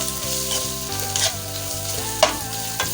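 Chopped vegetables including cabbage frying and being stirred in a pan for chicken chilli, with a steady sizzle under repeated scraping and stirring strokes and a few sharper clanks of the utensil, close and fairly loud, with no voices.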